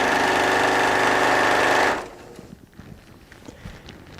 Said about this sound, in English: And this should be my last side to stay stitch.